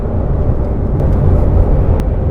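A Shelby GT350R Mustang held in 5th gear under acceleration, its engine a loud, steady, dense roar with a deep low rumble filling the short span, no talk.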